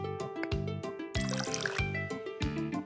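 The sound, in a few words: hot milk poured over cocoa in a mug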